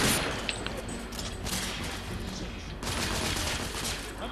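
Rifle gunfire in the Victorian shooter game The Order: 1886, a dense run of repeated shots and booms over a rumbling battle bed, loud and close throughout.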